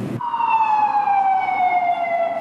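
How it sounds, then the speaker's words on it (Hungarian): A wailing emergency siren from bomb squad vehicles arriving at the scene of a homemade bomb find sounds loud and steady, a single drawn-out tone gradually falling in pitch after a brief burst of noise at the start. "A tűzszerészek szirénázva több járművel érkeztek a helyszínre"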